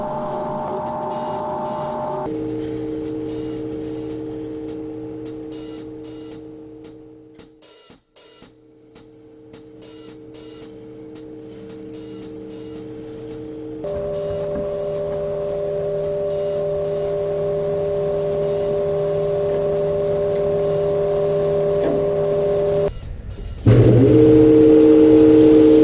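A wood lathe spinning a slab blank into a bowl, running first around 500-600 RPM and then faster. It gives a steady tonal hum with a harmonic whine that steps up in pitch, loud and near, with no voices.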